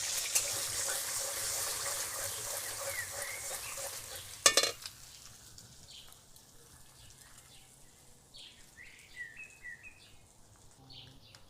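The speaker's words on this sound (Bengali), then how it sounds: "কড়াইতে সাদা তেল দিয়ে দিচ্ছি কিছুটা, দিয়ে ডিমটা ভেজে নেব" An egg frying in white oil in a kadai, a soft hissing sizzle at first, then a sharp clatter midway before the frying fades to a faint, quiet crackle.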